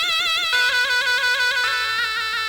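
A mizmar voice on a mobile keyboard organ app plays a short reedy, nasal melodic phrase: a few wavering held notes, then a sustained buzzy tone with slight pitch bends, loud and close, with no voices.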